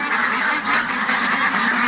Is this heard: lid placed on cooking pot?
no